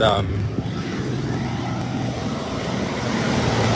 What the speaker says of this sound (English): it's very noisy because the cars go by, as you could see.